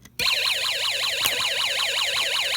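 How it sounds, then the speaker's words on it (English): A Snap Circuits electronics kit wails out a warbling police-siren tone, loud and steady, repeating its rising-and-falling sweep about three times a second after a brief quiet start. "you will hear a police siren"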